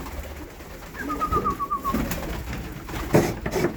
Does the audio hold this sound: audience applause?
no